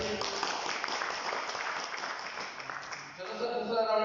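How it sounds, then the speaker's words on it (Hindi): An audience at a direct selling seminar breaks into dense, steady clapping that fills several seconds at moderate level, with voices mixed faintly underneath. "तालियां बजा दीजिए।"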